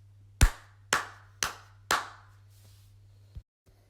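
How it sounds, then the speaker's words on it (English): Hands clap four sharp, evenly spaced beats in a 4/4 bar at 120 BPM, each crisp and close with a short room decay, followed by a softer fifth clap after a pause. "So if you were to clap your hands in a 4/4 bar at 120 beats per minute,"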